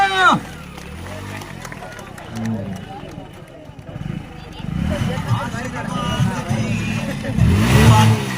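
A motorcycle revs and rides past at a crowded outdoor village event, its engine rising loud toward the end over steady crowd noise and voices.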